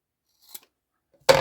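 Scissors snip off a piece while preparing journal items, a single faint close cut followed by a louder crisp snip, quiet pauses between, no talking.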